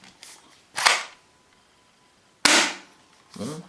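Replica Fabarm pump shotgun being racked by hand, two sharp metallic clacks of the pump action followed by a softer slide noise, close and fairly loud against a quiet room.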